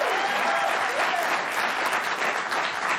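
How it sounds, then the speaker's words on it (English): A studio audience applauds in steady, dense clapping throughout, loud and continuous with no breaks, and no voice stands out over it. "I got applause for that."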